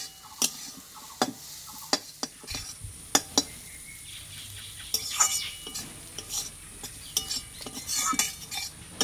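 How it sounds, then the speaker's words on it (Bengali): Semolina (suji) being stirred in a pan with a small amount of water, with repeated scraping and tapping of a spoon against the pan over a soft sizzle. "মানে এই অল্প জলে যাতে সেদ্ধটা হয়ে যায় সুজিটা, এইভাবে কিন্তু নাড়াচাড়া করতে হবে"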